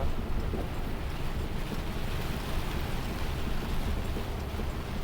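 Heavy nighttime rain pours down during a drive through East Lampung toward Bakauheni, a dense, steady roar of rainfall mixed with road and wind noise, constant and loud.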